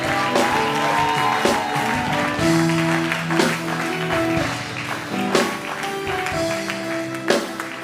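Congregation in a church service applauding to acclaim the name of Jesus, sustained clapping layered over held keyboard chords, with occasional sharper claps and taps standing out.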